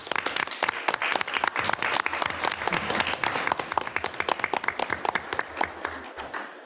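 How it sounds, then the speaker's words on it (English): A crowd applauds steadily at a school board meeting honoring school nurses, dense clapping filling the whole stretch before thinning out near the end. "we applaud each and every one of them today and every day"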